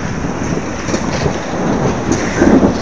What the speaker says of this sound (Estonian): Ja õues lööb välku.